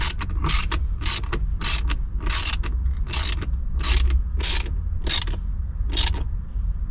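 A screw is driven in by hand while replacing the park button on a BMW, producing a close series of sharp, evenly spaced ratcheting clicks over a low steady hum.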